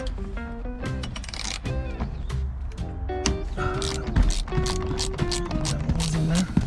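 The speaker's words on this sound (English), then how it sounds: "now we're gonna remove the spool" Removing the seat belt retractor spool from a 1968 Ford Fairlane 500 produces close, busy ratcheting clicks and metallic creaks in quick irregular bursts throughout.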